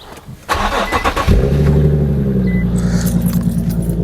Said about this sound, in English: we're going to give it a start up to check everything